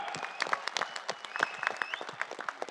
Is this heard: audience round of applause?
yes